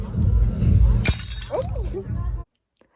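Glass smashing at a German bachelor party custom, a single sharp shattering crash with tinkling fragments, heard close over loud chatter from a crowd before cutting off to silence.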